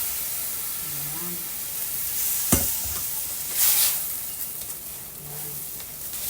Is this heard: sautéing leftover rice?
yes